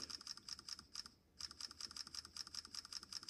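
Rapid burst of electronic camera shutter clicks from a Samsung Galaxy S24 Ultra smartphone, firing in a fast, steady rhythm with a brief pause partway through, close and crisp with no talking.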